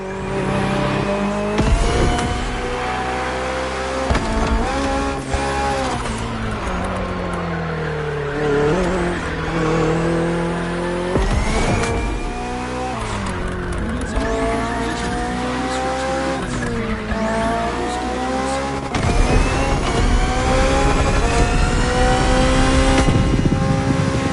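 A BMW hybrid V8 race car in the racing game Motorfest revs hard and shifts through gears, its engine note rising and falling with tire squeal, continuous and loud throughout, with no talk.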